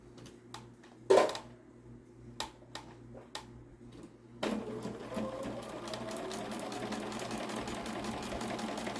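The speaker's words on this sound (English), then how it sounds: "I'm just going to slide that over to my machine and stitch it." A sewing machine stitching fabric strips, a few clicks and handling knocks first, then a steady close mechanical whir with rapid needle ticking that runs continuously to the end.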